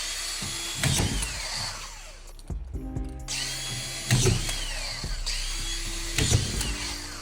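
A power drill drives screws through plaster sheets into a house frame during renovation, with a few rising whirring bursts separated by short pauses and clattering handling noises.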